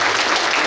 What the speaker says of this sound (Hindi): मैं जोरदार ताली आपसे चाहूंगा बनारसी भाई जी के लिए बजाएं।